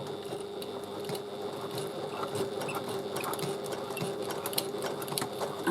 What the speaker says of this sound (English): I'm using my walking foot just to base stitch the piping to the panel